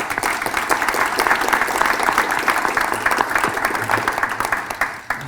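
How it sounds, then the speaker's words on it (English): A forum audience applauds the county executive candidates, with dense, sustained clapping filling the room evenly from start to finish at a fairly loud level. "Just give them another round of applause,"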